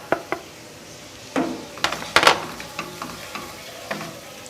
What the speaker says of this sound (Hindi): इन मसालों को भुनाई की ज़रूरत होती है तो ये पहले ऐड कर रही हूँ